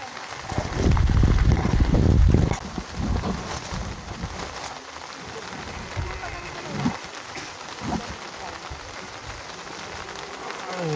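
Rain falls steadily on a moto-camping site at a viewscape in Tanay, Rizal, a dense close hiss of drops on surfaces with a heavy low rumble for the first couple of seconds before settling into an even patter.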